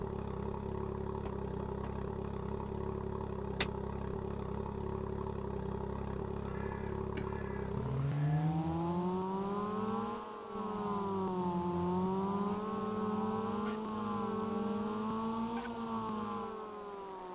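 A vehicle engine in Farming Simulator 22 idles steadily at first, then shifts into a higher, droning, buzzing whine like a swarm of bees that rises and falls slightly as it runs, with no talking.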